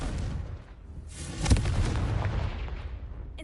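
A Confringo spell explosion in the Hogwarts Legacy game, a single loud fiery blast about midway with a crackling burst and a rumbling tail, preceded by a whooshing rise.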